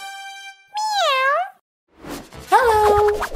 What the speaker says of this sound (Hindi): प्यारी बिल्ली